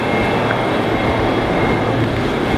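An older-style passenger train at Port Glasgow station rumbles loudly and steadily, a continuous close roar of wheels and carriages with no talk.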